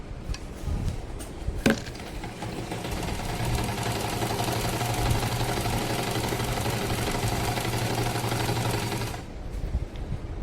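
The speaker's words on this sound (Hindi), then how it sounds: "तो देखिए ऐसे सीधी सीधी सिलाई लगा लेती हूँ मैं।" A sewing machine runs continuously stitching straight seams along cotton fabric strips, a steady close whir lasting most of the stretch before stopping.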